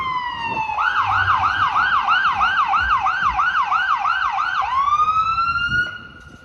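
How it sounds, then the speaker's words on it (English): Emergency vehicle siren wailing loudly in a Toronto city street, a fast rising-and-falling yelp that sweeps steadily for several seconds, then settles into a sustained tone before cutting off, over low traffic rumble. "every day we're hearing sirens"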